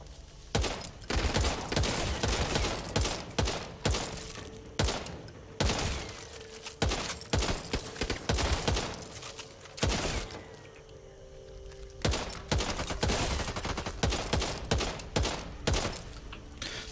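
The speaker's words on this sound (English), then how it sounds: "Stick with this RPK for now." RPK machine gun firing in the zombie shooter Back 4 Blood: loud, close, rapid automatic bursts of varying length, repeating with short pauses between volleys.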